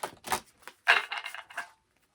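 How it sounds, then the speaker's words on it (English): Tarot cards are shuffled in crisp bursts, a few quick riffles and slaps close by, then a pause and silence at the end. "Just going to give your cards a shuffle."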